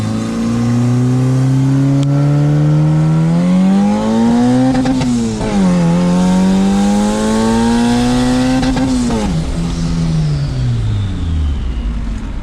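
A turbocharged Honda D16 with GT35 turbo at 16 psi accelerates hard in second gear at night, the loud engine note climbing in pitch, dropping at a shift, then climbing again before easing off.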